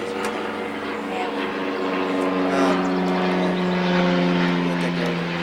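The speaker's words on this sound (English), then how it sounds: "Got a biplane flying over. Gonna be noisy." A World War II biplane drones overhead, its propeller engine a steady, loud, continuous rumble with a buzzing tone that fills the whole stretch.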